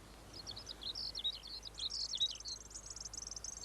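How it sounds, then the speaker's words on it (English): A redstart sings outdoors near an oak tree, giving a quick run of high, thin chirps and twitters that repeat steadily through the whole stretch. The song is faint and distant, with no talk over it. "Yes, listen to that bird."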